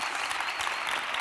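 An audience applauding at a talk on AI and journalism, a dense steady patter of many hands clapping at once, even and sustained throughout with no voices standing out.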